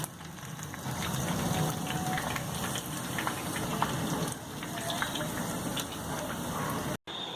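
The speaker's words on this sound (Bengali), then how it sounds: "গাঢ় বাদামি রং করে ভেজে নিন দেখুন কি সুন্দর ভাজা হয়ে গেছে" Continuous bubbling crackle of chicken wings deep frying in hot oil, a dense rain-like hiss with scattered pops, close by.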